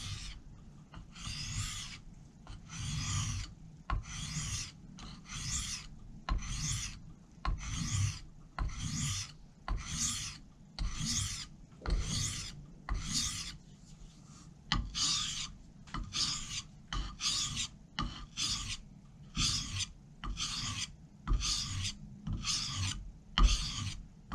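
A woodworking tool is sharpened on a grit stone with steady back-and-forth rasping strokes, roughly twenty of them in an even rhythm. The scraping is close and fairly quiet with no voices.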